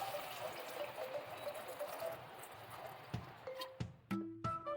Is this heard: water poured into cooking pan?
yes